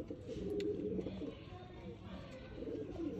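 Female sheikh-breed quail calling with soft, low cooing notes that repeat steadily over a constant background hum, at moderate volume and fairly close.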